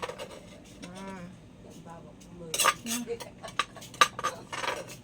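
Dishes and a metal tray gathered up and carried off for washing at a noodle shop: clattering clinks and knocks of crockery and cutlery, sharper toward the end, with someone talking over the start.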